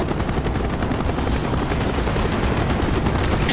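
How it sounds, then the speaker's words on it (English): Anti-aircraft gunfire in the Call of Duty Black Ops video game rattles as a dense, continuous barrage, loud and close, with a steady rotor-like rumble underneath throughout. "Taking AAA fire from the deck!"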